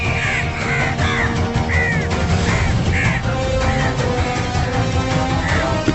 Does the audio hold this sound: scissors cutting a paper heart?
no